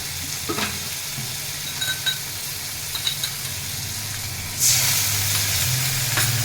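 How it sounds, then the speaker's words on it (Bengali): A wet spice paste with a little water stir-fries in a pan for a Bengali fish curry, a steady close sizzle broken by scraping spatula strokes, then a louder hissing burst near the end as the water meets the hot oil. "এই মশলাটাকে ভালো করে কষিয়ে নেবো"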